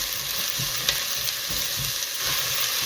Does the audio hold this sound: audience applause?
no